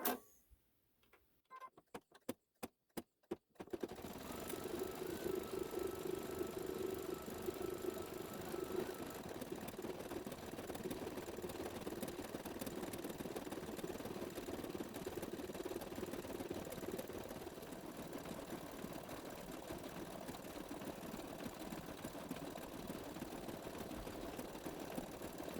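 An embroidery machine stitching a quilt block, starting after a few sharp clicks and then running in a steady, fast mechanical whir with rapid needle ticking, close and moderately loud, no voices.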